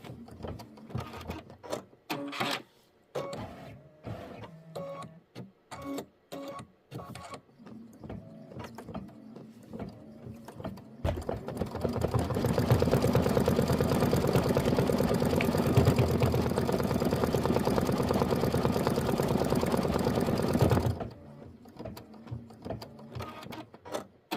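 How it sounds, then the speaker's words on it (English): Sewing machine stitching a Kimberbell butterfly quilt block: first a run of short stop-start bursts and clicks, then a long steady whirring run of about ten seconds before stopping; close and clear, with no talking. "I'm stitching this one up first"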